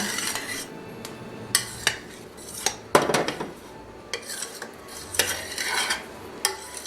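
Thickening pecan frosting in a pot is stirred constantly, with a spoon scraping and knocking against the metal in irregular strokes over a soft bubbling simmer.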